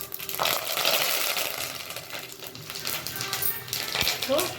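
Mustard seeds splutter and crackle in hot oil with cumin, asafoetida and curry leaves for a homemade kalakai pickle, a dense continuous sizzle with scattered sharp pops and light clinks throughout.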